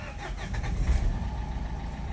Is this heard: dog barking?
no